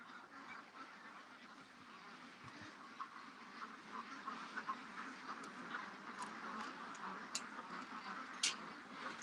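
Ducks quack repeatedly in a steady, busy chorus at night during a feeding, with occasional sharper calls standing out over a constant low background.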